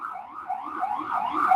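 An outdoor siren wails in rising and falling sweeps, fairly loud and continuous throughout, with no voices over it.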